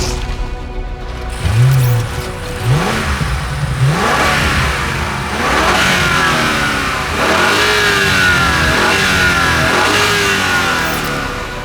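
A 717-horsepower BMW M5 V-8 wagon weighing 5,430 pounds accelerates hard in a drag race, its engine note climbing through repeated rising sweeps as it shifts up through the gears, loud and sustained without pause.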